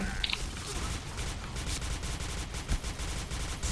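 Gunfire in a shooter video game, a rapid series of sharp shots in quick succession at close range, with a faint voice briefly in the background.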